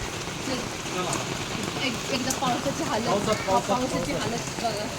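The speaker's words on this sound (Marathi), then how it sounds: "तर खूप पाऊस पडतोय" Steady, dense rain in Rahuri hisses and patters throughout, with a person talking faintly beneath the downpour.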